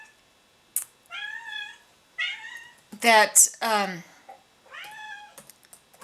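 A cat meows and cries repeatedly in a room, several drawn-out wavering calls close by, with a person briefly speaking between them.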